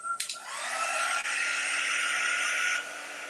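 A hair dryer blows steadily to dry fresh paint on a chalkboard, switching on with a click and rising into a loud, even whirring hiss before easing down near the end.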